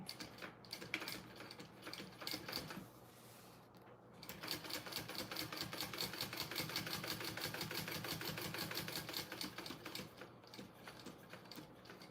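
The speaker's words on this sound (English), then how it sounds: "Let's do some basting or some stitching, actually." Home sewing machine stitching the fabric of a Park Mini Backpack, a fast close rattling drone in bursts with short pauses between runs of stitches.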